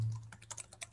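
Short run of keystrokes on a computer keyboard, several quick close taps in an uneven rhythm, alone with no talking.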